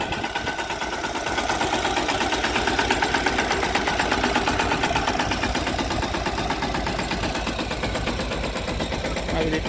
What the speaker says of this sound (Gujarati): આ મિની ટ્રેક્ટરથી પારા બાંધવાનું કામ ચાલુ છે